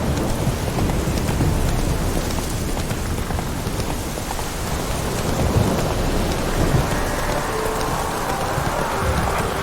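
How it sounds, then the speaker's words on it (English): Video game rainstorm with thunder, a continuous dense hiss of heavy rain on surfaces with low rolling rumbles of thunder throughout, steady and fairly loud with no talking. "No use doing any work in this rain."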